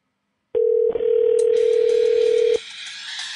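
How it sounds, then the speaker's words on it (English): A computer dialer placing a phone call gives a single loud, steady tone lasting about two seconds, then cuts to a faint hiss, with no talking. "And then we just go ahead and click on dial and hopefully my phone should ring."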